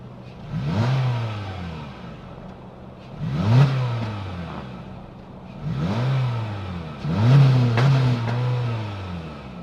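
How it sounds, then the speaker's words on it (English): A 2026 Honda Civic Sport's 2-liter naturally aspirated four-cylinder engine revs up four times in succession, each burst rising in pitch and falling back to a steady idle, close and loud. "that was the sound of the 2-liter naturally aspirated 4-cylinder engine sold by Honda"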